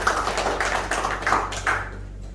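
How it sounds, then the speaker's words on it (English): An audience at a Thai-Malaysian business meet claps in applause, a dense burst of hand claps with a few rhythmic surges, fading out near the end. "a big round of applause to Kun Satya."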